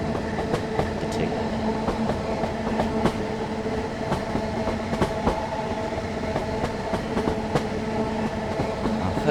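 A train runs in the video game Train Sim World 5, a steady rumbling roll with regular clickety-clack wheel beats over rail joints, close and continuous with no talk.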